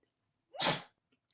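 A single short sneeze, close and fairly loud, bursting out in a quiet room and fading quickly.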